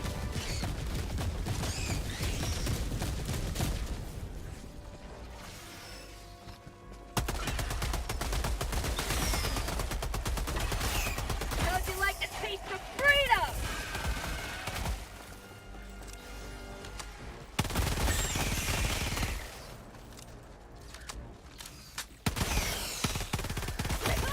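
An orbital barrage in the Helldivers game: dense, sustained booming blasts and rumbling gunfire fill the clip, loud and continuous, with brief lulls and sharp crashes between waves of explosions, no clear talking.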